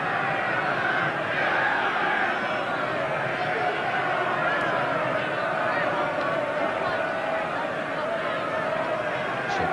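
Stadium crowd at a sunny 1984 FA Cup tie between Brighton & Hove Albion and Liverpool, a constant broad roar of massed voices under a commentator's voice, steady and dense from start to finish.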